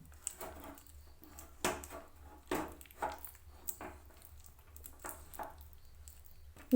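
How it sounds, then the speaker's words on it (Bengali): A thick jaggery and peanut brittle mixture being stirred hard in a pan, with irregular scraping and thudding strokes at a low level and a sharp knock at the very end. "আমরা প্রায় যুদ্ধ করার মতো করেই নাড়াচাড়া করছি যাতে তলায় বসিয়ে না যায়"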